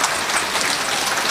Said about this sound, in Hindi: चलो एक बार ताली बजाओ